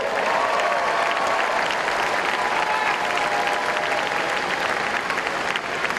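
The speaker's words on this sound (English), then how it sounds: "Let's give you a big round of applause for everything that you do in your state." Steady, dense applause from a large audience at a Democratic Party event, sustained and even for several seconds, loud and close, with no one speaking over it.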